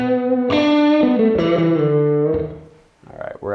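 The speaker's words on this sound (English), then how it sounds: "So let's go with a vintage sound, and we will push the power amp to get a little bit different saturation here." Electric guitar played through a vintage-voiced amp with the power amp pushed into saturation, ringing out sustained, harmonically rich distorted notes and slides at a loud, close level, fading briefly before a few final picked notes.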